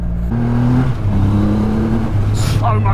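A 2020 Triumph Rocket 3 GT motorcycle accelerates hard on the road, its engine drone rising in pitch under strong wind noise, heard from the rider's position with a voice briefly speaking near the end.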